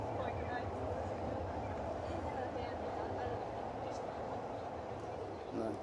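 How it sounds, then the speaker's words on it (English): A train approaches, heard as a steady low rumble with faint rail clatter outdoors, fairly distant and unchanging. "I can hear a train coming"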